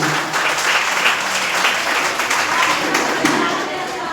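A crowd at a party venue in Janakpur gives loud, sustained applause for the sponsor, a thick continuous clapping that holds evenly throughout with faint voices mixed in.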